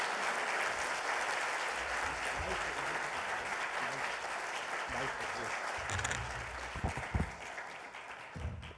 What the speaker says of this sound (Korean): 큰 박수로 우리 목사님을 모시도록 하겠습니다.